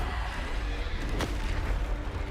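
A Bombarda spell blast in Hogwarts Legacy, heard as a sharp booming burst in the middle of a steady, dense rumble of game noise, loud and close.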